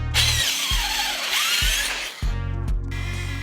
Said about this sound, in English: I'll only drill a hole in each corner to lock the four corners